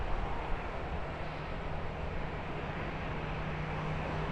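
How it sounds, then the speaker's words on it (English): A jet airplane taking off or landing at an airport, a steady broad engine roar that holds evenly, heard from nearby on the ground. "see the planes taking off and landing"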